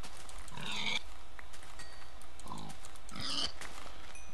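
Two separate bursts of pig grunting and squealing in a blocky survival game, fairly close, over low background hum.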